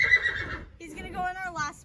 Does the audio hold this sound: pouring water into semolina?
no